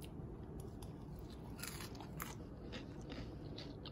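Crisp bites into crunchy air-fried Palmini pasta straws, close and quiet, with a cluster of sharp crackling crunches in the middle of the clip.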